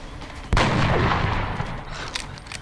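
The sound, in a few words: gunshot fired in the video game XCOM: Enemy Within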